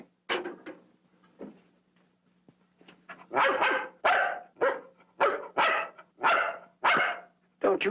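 A dog barks repeatedly at close range, first a few scattered yaps and then a steady run of loud, evenly spaced barks over a low indoor hum.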